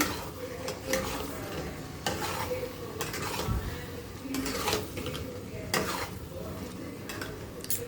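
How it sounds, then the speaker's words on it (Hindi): A spoon scrapes and stirs through a thick potato and paneer curry in a pan with soft sizzling, in repeated strokes about once a second. "फिर हम अपना इसमें पनीर डालेंगे। फिर मिक्स करेंगे।"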